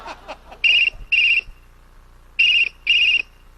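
A telephone rings in two pairs of bright electronic trills, loud and close, with quiet gaps and faint background noise between them.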